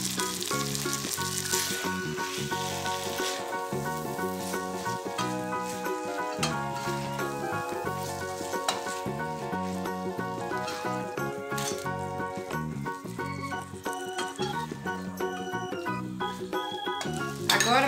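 Colorau and other seasonings sizzle and fry in a pot of bean soup with pasta, a steady close crackle running unbroken throughout with occasional stirring scrapes.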